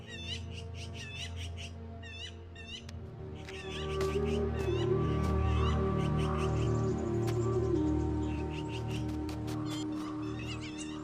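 Harsh, chattering magpie calls repeat in quick bursts over a steady low background hum, loud and fairly close, continuing throughout, in a wild winter setting in America.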